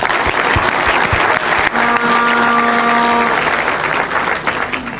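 A loud, dense round of crowd applause for a national youth football team at a reward ceremony, sustained for five seconds, with a brief tonal sound partway through.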